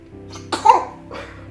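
A baby lets out a couple of small, close sneezes or coughs, one sharp burst followed by a softer one, with quiet room tone between.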